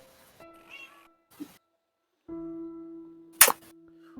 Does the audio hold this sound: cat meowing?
yes